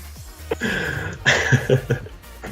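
A person coughing in a casual recorded conversation, giving a few rough, throaty bursts close to the microphone with some breathy, voiced noise between them.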